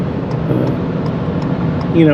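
Car cruising at about 70 miles an hour after a burst of throttle, with steady road and engine rumble throughout and a brief high whine rising near the end.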